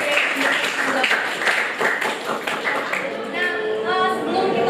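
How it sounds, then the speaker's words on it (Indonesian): Students in a grade 8 classroom applaud presenting groups 2 and 3, a steady burst of clapping from many hands sustained for several seconds, with some voices mixed in. "Kita tepuk tangan dulu untuk kelompok 2 dan juga kelompok 3."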